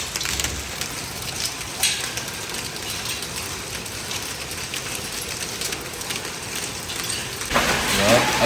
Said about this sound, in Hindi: अब ये मोटे मोटे सही बड़े बड़े ओले पड़ रहे हैं